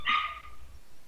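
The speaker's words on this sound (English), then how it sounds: "Yappy dog." A single sharp yip from a small yappy dog, a pet belonging to someone's mother, close and brief, fading into quiet room noise.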